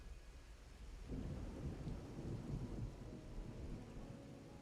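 Rain and a rolling rumble of thunder in the video game Wuthering Waves, low and fairly faint: steady rainfall, then a long thunder roll swelling and fading over several seconds, with no talk.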